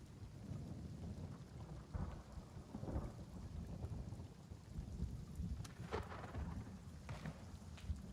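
Rain pours steadily in the Gray Zone Warfare video game, a dense low rumbling wash with scattered sharper drips and crackles, fairly faint and without voices.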